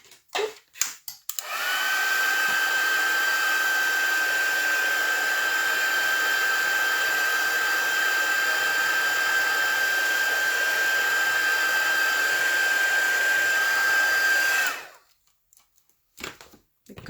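A hair dryer drying ink on a paper craft, switching on with a click, then blowing in a steady loud whine for about thirteen seconds before cutting off, with faint handling noises around it.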